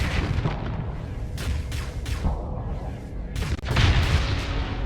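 A ship in a space combat game blows up in a series of heavy booming blasts with crackling debris, the loudest burst coming near the end.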